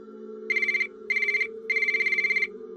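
A phone ringing as a sound effect in a narrated Filipino story, three bursts of electronic bell-like trilling, the last one longer, over a steady low hum.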